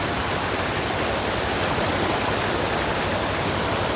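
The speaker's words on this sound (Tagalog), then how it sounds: "Lakas ng agos dyan." A strong river current rushes past in a constant, dense wash of water noise, loud and close, with no break.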